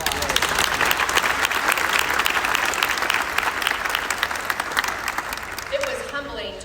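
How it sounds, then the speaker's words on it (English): Sustained applause from the crowd at the Fort Worth City Hall ribbon cutting, honoring the builders of the facility, holding steady and dense before thinning toward the end as a voice begins. "Please give them a round of applause"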